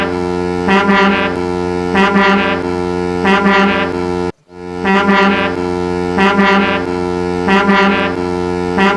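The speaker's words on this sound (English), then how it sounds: "the fat controller used a foghorn to wake all the engines" A loud, deep foghorn blown to wake the engines at the engine sheds in a Thomas the Tank Engine cartoon, in two long sustained rounds each with repeated swells, separated by a brief cut of silence.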